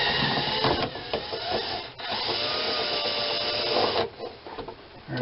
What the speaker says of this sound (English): And see if I can unscrew.